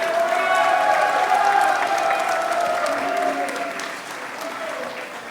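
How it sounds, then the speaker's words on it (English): Audience applause at a high school magic show, dense clapping that starts strong and gradually thins and fades, with a voice speaking over it. "Give him a nice round of applause as well."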